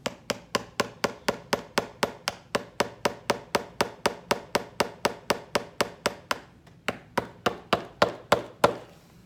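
A light hammer taps a shoe heel, pegging it, in a steady, even rhythm, about three sharp knocks per second, with a brief pause before the taps resume.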